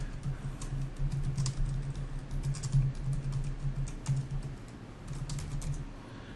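Code is typed on a computer keyboard in a quick, irregular patter of close key clicks, with brief pauses between bursts.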